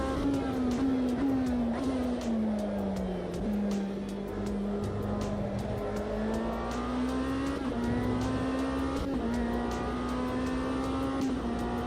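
An in-car race car engine from the Automobilista 2 racing game drones steadily with rising and falling pitch through gear changes, regular clicks over the top, heard from the cockpit.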